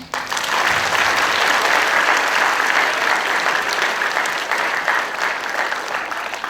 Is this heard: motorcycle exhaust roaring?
no